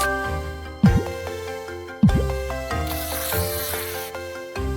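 A cartoonish Minecraft bee buzzes as a sound effect over a bright musical backing, the droning hum rising in a couple of swooping bursts and then continuing with layered tonal effects.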